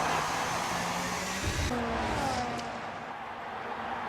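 F1 25 race cars cross the finish line at Monza in a racing game. A steady engine drone fills the scene with a tonal whine sliding upward. A brief thump comes midway, and the sound fades somewhat toward the end.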